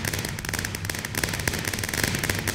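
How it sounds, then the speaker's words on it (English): Rapid crackling bursts of fireworks in a crazy video game minigame, dense overlapping pops and bangs firing continuously and loud throughout with no pauses. "there's a lot of fireworks now."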